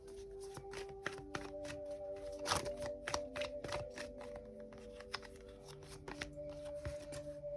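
Tarot cards shuffled and laid down one after another during a Hindi tarot reading, with a steady run of soft, close card snaps and taps and a faint steady hum underneath.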